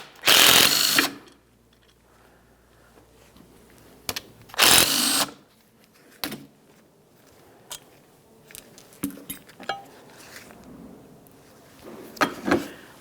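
A power tool spins off the 14mm caliper slider mounting bolts on a 2015-2020 Ford F-150 front brake, two loud close bursts of whirring separated by quiet clicks and small mechanical clatter.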